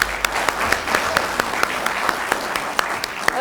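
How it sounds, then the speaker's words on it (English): Audience applauding graduates at a transit agency graduation ceremony, steady dense clapping with a few sharp nearby claps standing out. "let's give everybody a round of applause right now."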